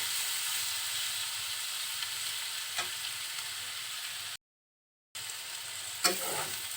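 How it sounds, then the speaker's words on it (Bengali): Pointed gourd and potato bhaji frying in a pan, a low continuous sizzle with occasional scrapes of stirring; the sound cuts out completely for under a second midway, then resumes with a sharper stir. "কিছুক্ষণ পর পর একটু নেড়ে দিবেন যাতে নিচে লেগে না যায়"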